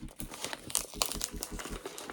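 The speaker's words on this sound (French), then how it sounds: "Je vais essayer de tirer le scotch là." Adhesive tape being pulled and torn off a heavily taped paper package, a series of close crinkling and ripping bursts with irregular rhythm, loud and alone without speech.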